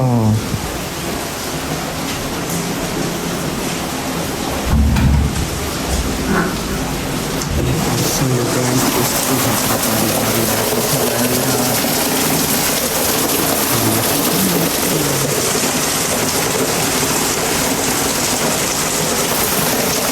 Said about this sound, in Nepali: निन्द्राबाट उठेको त कस्तो पानी परिरहेको रहेछ बाहिर त